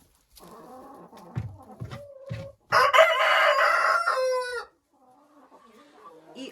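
Hens cluck softly in an indoor coop, then a rooster lets out one loud, close crow lasting about two seconds, followed by quieter clucking again.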